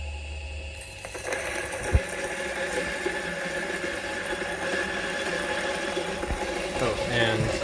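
A Monolith Titan Flat coffee grinder spins at high RPM, a steady mid-pitched motor whine running throughout with small clicks and a rising flutter near the end.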